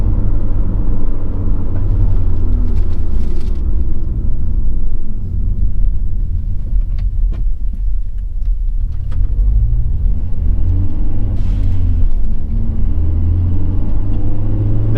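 Ford Focus ST fitted with a high-flow air filter, its engine holding a loud, steady low rumble for the whole stretch with slight rises in revs, close by and without any voices.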